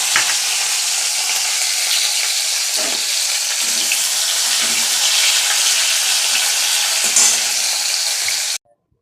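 Bitter gourd (uchhe) frying in a kadai, a steady loud hiss of sizzling oil running without a break for about eight seconds and then cutting off abruptly, with faint stirring scrapes underneath.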